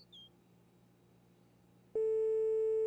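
Steady telephone dial tone from a video game set in a winter wasteland, a single loud unbroken electronic hum that cuts in abruptly after a quiet stretch and holds on alone.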